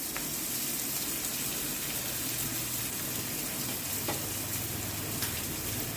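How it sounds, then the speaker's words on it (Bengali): Chopped onion and garlic sizzle steadily in a hot pan while being stirred, a continuous close frying hiss with occasional scraping clicks, no voices. "এটাকে আমি ভালো করে নাড়িয়ে চাড়িয়ে নেব।"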